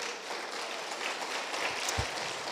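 Church congregation applauding during a Spanish-language sermon, a steady wash of clapping at moderate level with no speech over it.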